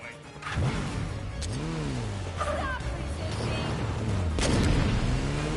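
Motorbike engine revving and whining through rising and falling pitch sweeps while riding in the game Gotham Knights, with booms and skids mixed in and faint voices underneath.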